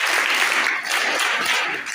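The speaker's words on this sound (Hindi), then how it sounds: "सैनिक ताली।" A farewell gathering's audience claps in unison for about two seconds, a dense, steady burst of hand claps filling the room with no talk over it.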